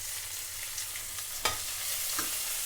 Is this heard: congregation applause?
no